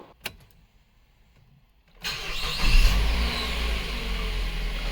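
A 2009 Mazda 5 with a newly replaced engine mount cranks and starts after a quiet pause and a couple of clicks, then idles and revs up steadily as it begins to move.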